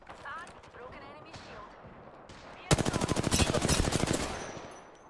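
Loud, rapid automatic gunfire erupts in Apex Legends, a dense rattling burst that dominates the second half after a quieter stretch of in-game chatter and ambient sound.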